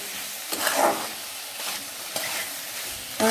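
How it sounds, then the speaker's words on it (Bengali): Potatoes and chickpeas being stirred and sautéed in a pan for a vegetarian curry, with a soft steady sizzle broken by several louder scraping stirs of a spoon, close and with no talk. "ছোলা, এটা এবার একটুখানি কষতে হবে।"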